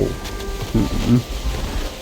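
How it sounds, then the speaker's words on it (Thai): Thunderstorm in the zombie shooter Left 4 Dead 2: steady rain hiss with low rolling thunder rumbles, moderately loud. "ฝนฟ้าขนอง"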